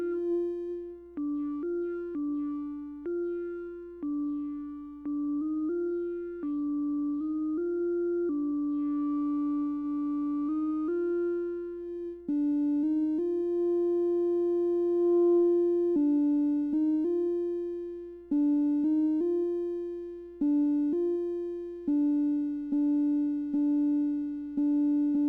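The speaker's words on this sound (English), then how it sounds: "we have a basic synth sound, almost bell-like." A modular synthesizer plays a basic bell-like tone, repeated pitched notes with bright ringing overtones and short decays, sometimes held longer, steady and close, heard alone.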